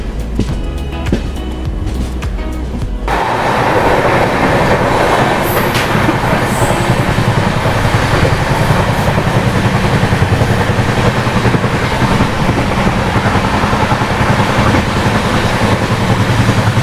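A train running near Chengalpattu railway station in India, a former large metre-gauge junction, with a steady loud rumble and rattle of railcars on track throughout, after a quieter start.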